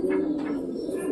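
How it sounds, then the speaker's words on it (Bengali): Two pet pigeons coo softly and steadily while drinking water at home, a low repeated cooing close by with no talk over it. "দেখো আমাদের দুটো পায়রাই জল খাচ্ছে সুন্দরভাবে"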